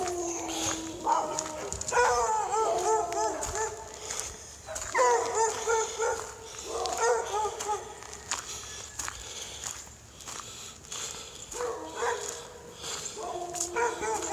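A white dog outdoors after an ice storm gives repeated yips and short barks at close range, with whimpers and footsteps crunching between them.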